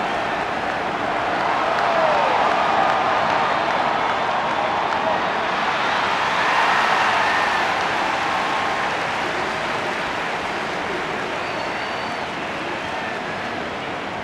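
Large stadium crowd at the 2015 AFL grand final between Hawthorn and West Coast, a continuous broad roar of cheering and applause that swells and eases slightly over about fourteen seconds, loud and diffuse with no distinct voices.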